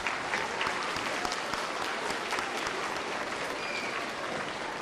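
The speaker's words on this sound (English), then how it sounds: "Let's give all of our outstanding scientists a round of applause." Sustained audience applause at a junior high school awards assembly, a dense, steady wash of many hands clapping that fills the hall for several seconds without pause.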